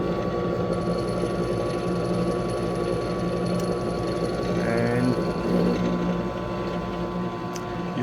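A WEN variable speed benchtop drill press runs at its lowest speed setting, giving a steady low mechanical hum with a faint tonal whine, continuous and fairly close throughout.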